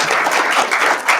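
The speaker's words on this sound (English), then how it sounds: "And a round of applause, Andrew." A brief round of audience applause at an academic conference paper session, a dense patter of many hands clapping at moderate loudness for just over a second.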